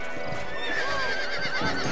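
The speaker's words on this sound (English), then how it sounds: "Hey, the stallion's getting away. Chase him down and bring him back." Horses in the Western video game Red Dead Redemption neigh and whinny loudly and repeatedly, overlapping with clip-clopping hooves and a busy outdoor game soundscape.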